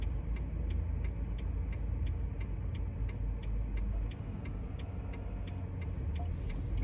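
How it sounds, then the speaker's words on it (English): Steady, evenly spaced ticking of a car's turn-signal blinker, heard from inside the car over a low, continuous engine and road hum, with no talking. "there's the tick-tock of my blinker"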